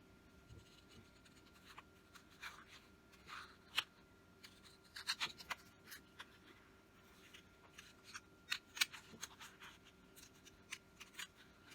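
Scissors cut a flower shape out of a cardstock printout. Quiet, close snipping and papery rustling come in irregular bursts, with a few louder crisp cuts.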